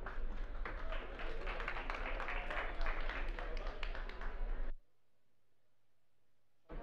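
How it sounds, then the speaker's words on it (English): Steady, dense applause from an audience at an Israeli energy tech all-stars event, full and close for several seconds before cutting abruptly to near silence. "give you guys a round of applause"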